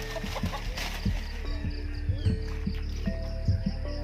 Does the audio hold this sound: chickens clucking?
yes